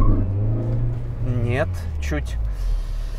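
Lada Vesta Sportline engine held at high revs for a launch start, a steady loud drone beneath someone talking over it.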